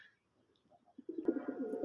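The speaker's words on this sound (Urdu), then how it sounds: "یہ دیکھیں سارے کبوتر میرے پاس آ گئے ہیں" Home pigeons coo softly nearby, with faint murmurs at first and then a fuller, throaty rolling coo that continues close by.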